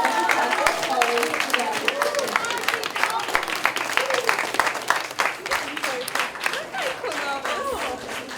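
Applause from an audience at a school graduation and last-bell ceremony, a steady dense patter of many hands clapping throughout, with voices talking over it.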